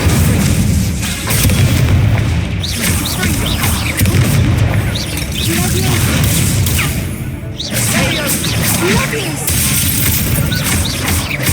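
Incendio fire spell cast in Hogwarts Legacy, heard as repeated whooshing bursts and booming impacts in a busy fight, with shouted voices over the effects throughout.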